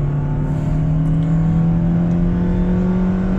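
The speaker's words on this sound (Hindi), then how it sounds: "मारुति के इंजन होते ही ऐसे हैं कि रेव करते जाओ" A Maruti Suzuki Grand Vitara engine revving while driving, a loud, steady, droning engine tone held throughout with no voices.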